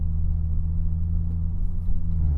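A red BMW Z4 sports car engine idles with a steady, deep rumble and low droning hum, close and constant throughout, with no talking.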